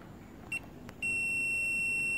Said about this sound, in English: You can hear the continuity beep.